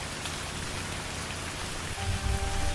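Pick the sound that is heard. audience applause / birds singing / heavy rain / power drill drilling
heavy rain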